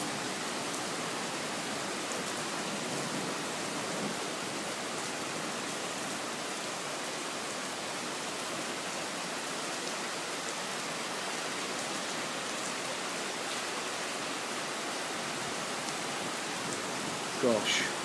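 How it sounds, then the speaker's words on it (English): Heavy rain pours down during a late-night thunderstorm in Riga, a dense, unbroken hiss of falling water lasting the whole stretch, steady and enveloping with no break. "it's really pissing it down right now."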